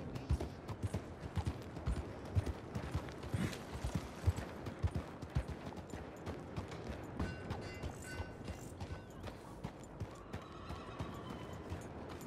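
Horse hooves clip-clop steadily with occasional whinnies, mixed into a busy, dense game soundscape of clatter and effects.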